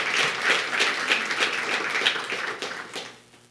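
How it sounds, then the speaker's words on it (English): A business and investment summit audience applauds Papa with a dense, steady burst of clapping that holds strong, then thins and fades away toward the end. "So please, a round of applause for Papa again."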